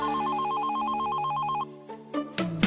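A telephone rings with an electronic warbling tone, pulsing steadily for about a second and a half before it cuts off, followed by a few brief tonal sounds.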